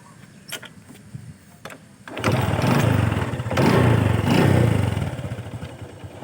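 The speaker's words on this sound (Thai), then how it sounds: "ฟังเสียงเครื่องกัน" A stock Honda Wave 125s motorcycle engine idles close by, starting quiet and uneven and then rising after two seconds into a steady, loud putter that runs to the end.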